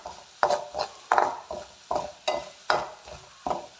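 Ginger is roasted in a pan while a spatula stirs it in regular scraping strokes, about two per second, over a soft sizzle. The sound is close and clear, with no voices.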